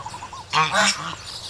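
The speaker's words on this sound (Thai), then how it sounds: "นี่ครับการปล่อยห่านเล็กลงสระแบบนี้นะครับ" Month-old Toulouse goslings honk in a short burst of overlapping, harsh calls, close by, with softer peeping before and after.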